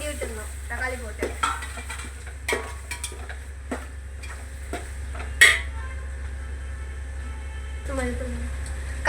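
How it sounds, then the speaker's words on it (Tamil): Tomatoes frying in a pan for vegetable biryani, a soft steady sizzle under repeated scraping stirs and occasional clinks of a utensil against the pan, with a person talking throughout. "நம்ம தக்காளி போட்டுக்கலாம். நல்லா கிண்டி விட்டுடணும்."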